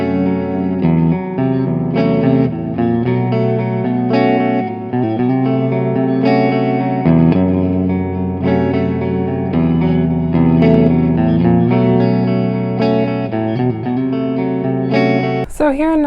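An electric guitar plays through a $45 mini amp with echo and reverb, a loud, sustained run of ringing notes and chords with trailing repeats, ending in a short bend.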